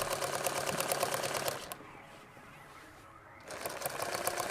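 A sewing machine stitches material in short runs, the rapid mechanical chatter running loud and close for over a second, pausing briefly while the fabric is flattened, then starting again.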